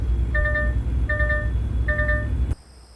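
In American Truck Simulator, a chiming overweight warning alert repeats three times in an even rhythm over a loud truck engine rumble, then the sound cuts off abruptly.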